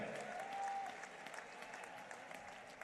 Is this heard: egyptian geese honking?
no